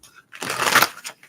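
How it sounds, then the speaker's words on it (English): Tarot cards being shuffled, a brief riffling burst of papery rustle that swells and fades, followed by a couple of soft card taps, close and alone. "Last shuffle."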